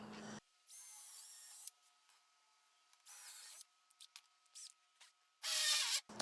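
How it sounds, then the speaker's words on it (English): A power drill drives anchor bolts while a lumber rack is installed on a wall, in short separated bursts of whirring, some loud and some faint, with quiet gaps between them. "the next thing we need to do is get the anchor bolts in"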